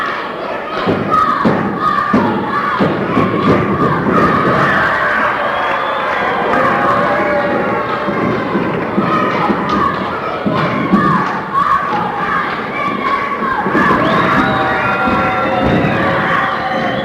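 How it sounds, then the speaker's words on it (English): An excited crowd cheers and shouts in a gym during a 1981 high school basketball game between TVCS and Mountain State Christian, a loud, continuous roar with thumps and bursts of yelling throughout. "Listen to this excited crowd."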